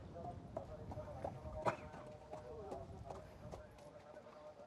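Horse's hooves clip-clopping as it is shown at a horse sale, a soft, steady rhythm of hoof falls heard faintly under someone talking.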